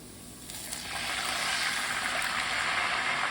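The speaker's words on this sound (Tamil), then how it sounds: "சேர்த்துட்டு இது கூடவே 1 கப்பு தண்ணி ஊற்றிக்கலாம்." Water pouring into a pan of moong dal and onions while cooking murungai keerai kootu, a steady splashing rush that builds after the first second and continues close and alone.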